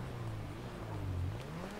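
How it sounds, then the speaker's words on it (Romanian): Engine of a car in the FiveM video game drawing closer, a steady low hum that rises slightly in pitch over its short length with faint whooshing noise, no talking. "Deja s-aude mașina lui."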